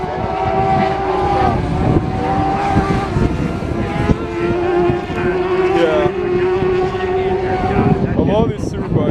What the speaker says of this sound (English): All these superbikes sound similar to the ends of Radical Cup cars